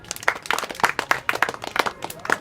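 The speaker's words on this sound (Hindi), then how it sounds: "ताली बजाओ इनके लिए।" Children's group clapping at a community outreach session on good and bad touch, a quick burst of uneven, moderately loud claps repeating in clusters for a couple of seconds.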